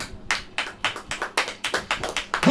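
A congregation at a church sermon claps in a brisk, even rhythm of about ten sharp, close claps, with no talk over them.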